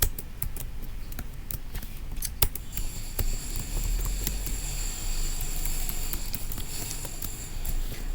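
Rapid clicks and taps of typing on a computer keyboard while entering a MySQL query, a dense irregular patter close by with a steady hum behind it and no speech.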